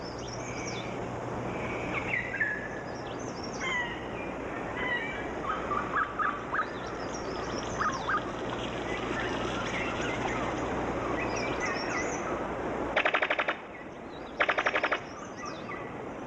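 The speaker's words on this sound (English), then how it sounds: "A brown sicklebill bird of paradise." A brown sicklebill bird of paradise calling in New Guinea forest, a series of short rapid rattling bursts over a dense bed of insect and forest noise, with a few other bird notes scattered through.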